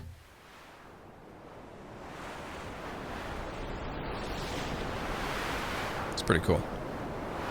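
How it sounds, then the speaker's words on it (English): Recreated ocean waves crashing on big beach rocks, a broad steady wash of surf that swells gradually louder, with a brief spoken remark near the end. "I love how the waves sound when they're crashing on the beach on big rocks"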